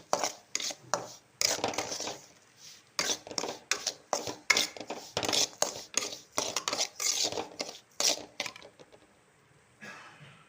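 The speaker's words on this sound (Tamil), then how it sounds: "இப்போ நம்ம நுணுக்கிட்டு வந்த மாவை இதில் கொட்டி கொஞ்சம் நல்லா வதக்கிப்போம்." A spatula stirs and scrapes ground green gram flour as it sautés in a pan over low heat for laddu. Rapid, irregular scraping and tapping strokes come close up, with only brief pauses.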